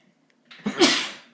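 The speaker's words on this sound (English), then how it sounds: "Oh, I might sneeze." A single close sneeze, with a short breathy lead-in followed by a sharp burst that trails off over about a second, in a quiet room.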